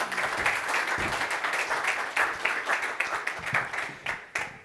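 Conference audience applauding during a pitch session at the invest.austria conference, moderate clapping with a few sharper individual claps standing out as it thins toward the end.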